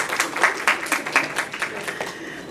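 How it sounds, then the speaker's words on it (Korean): An audience at a press conference claps in a short burst of applause, a dense patter of hands that peaks quickly and then tapers off over a couple of seconds. "박수 한번 쳐주시죠."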